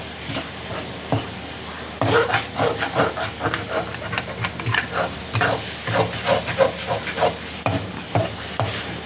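Halwa stirred continuously in a kadhai, giving repeated scraping, clacking strokes of a spoon against the metal pan in an uneven rhythm, close and fairly loud, with a faint sizzle beneath.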